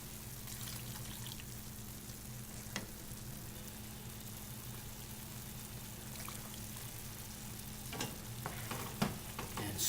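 Risotto with pancetta and mushrooms stirred in a 12-inch sauté pan, giving a steady low sizzle with soft scraping strokes and a few clinks, louder near the end.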